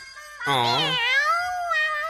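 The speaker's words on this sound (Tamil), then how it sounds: "பூனைக்குட்டி." A kitten meows in a cartoon, one drawn-out, wavering cry followed by a softer trailing whine, close and clear with quiet around it.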